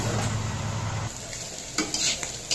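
Chopped bitter gourd and potato frying in a pan, a dense crackling sizzle under a brief low hum, followed by a few sharp spatula scrapes and taps as the vegetables are stirred.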